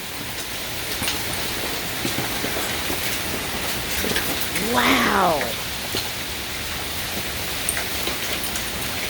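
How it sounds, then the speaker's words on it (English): Hail and heavy rain hammer down in a severe thunderstorm, a loud continuous roar of impacts with a short swelling whoosh partway through; one person briefly exclaims. "And it's hail. You can hear the hail."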